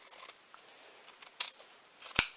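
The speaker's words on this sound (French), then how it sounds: "On vient couper nos coins" Scissors snip the fabric corners of a sewn bag in a few quick, crisp cuts with short gaps between them, ending in one sharp metallic closing snip, close and quiet.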